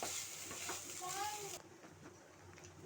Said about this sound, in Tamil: வெண்டைக்காய் கூட சேர்த்து நல்லா கிளறிக்கலாம்.